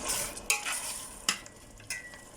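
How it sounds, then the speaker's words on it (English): Chicken and mushrooms fry in a pan with a steady close sizzle, broken by a few sharp stirring scrapes, with no voices. "Let the chicken fry with the mushrooms for about 2 minutes."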